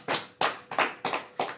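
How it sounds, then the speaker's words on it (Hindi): A congregation at a church service claps hands together in unison, five sharp, evenly spaced claps at a steady beat with no talk. "ताली बजा सकते हैं।"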